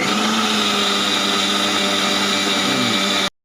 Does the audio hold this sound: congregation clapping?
no